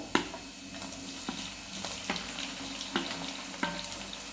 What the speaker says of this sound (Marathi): टोमॅटो पण टाकून भाजूया